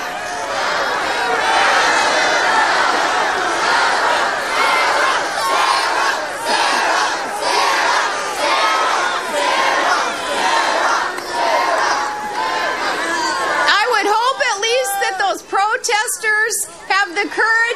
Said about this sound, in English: trying to drown out the shouts with cheers of Sarah, Sarah